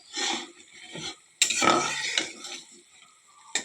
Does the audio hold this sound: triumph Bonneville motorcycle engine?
no